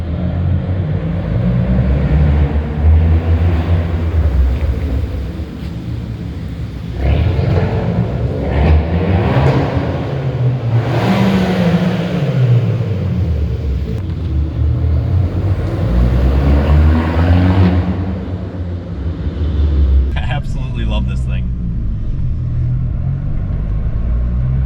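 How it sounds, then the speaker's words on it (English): A Fiat 500 Abarth with a small four-cylinder engine, driven on the road, its exhaust rising and falling through several revving pulls and gear changes, loud and close, with a hiss near the end. "It has a great exhaust sound for a little four-cylinder."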